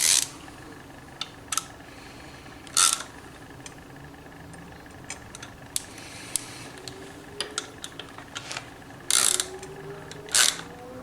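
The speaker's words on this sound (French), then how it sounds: "vous allez pouvoir serrer les 4 vis de fixation de votre stator afin que celui-ci ne bouge plus" Small screws being tightened on the stator of an Artek K1 internal-rotor ignition fitted to a Nitro scooter engine, heard as scattered sharp metallic clicks and several short ratcheting bursts, close and fairly quiet, with no talking.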